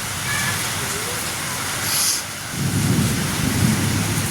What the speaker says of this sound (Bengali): তুমুল ঝড় বৃষ্টি শুরু হয়েছে